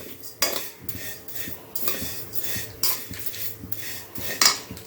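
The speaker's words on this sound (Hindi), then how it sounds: "मैंने सेवई डाल दिया भूनने के लिए" Vermicelli (sevai) roasting in a pan while a metal spoon stirs it, with repeated clinks and scrapes against the pan over a soft dry rustle at close range.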